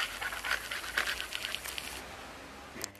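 Rapid rhythmic panting from a dog among a litter of five puppies, close and steady for a few seconds with no talk over it.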